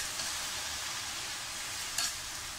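Leaves for Kerala leaf thoran being stirred in a hot pan, a steady soft sizzle with a brief louder scrape of the spoon near the end, close and alone without talk.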